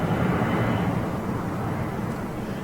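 An airliner on a rejected takeoff at Gatwick Airport, a broad, steady engine roar at a distance that holds level before easing slightly toward the end, with no voices.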